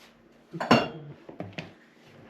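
Metal cookware clanks and knocks a few times, a butter pot being lifted and set down during homemade butter making, with brief clinks between quieter pauses.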